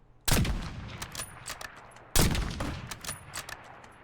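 Two sharp sniper shots from a video game firefight ring out about two seconds apart, each loud and close with a ringing tail and scattered smaller cracks trailing after.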